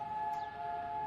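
A civil defense siren sounds across Israel on Holocaust Remembrance Day, a steady sustained wail holding one pitch, loud and continuous throughout with a faint background hiss and no voices.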